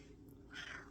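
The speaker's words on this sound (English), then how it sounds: "but my cat is here." A single short cat meow, quiet and close, rising briefly out of a low background hum.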